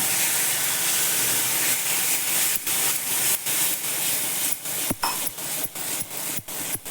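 Warm milk poured into hot roasted semolina for a mango sheera, a steady loud hiss and sizzle that breaks into sputtering crackles and pops toward the end.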